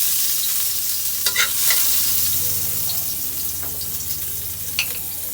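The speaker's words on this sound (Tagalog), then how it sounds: "gigisa ulit tayo, bawang" Garlic sautéing in a home kitchen pan as a Filipino dish with mussels, egg and malunggay begins, a steady sizzle with a few brief stirring clinks and scrapes, close and continuous, no voices.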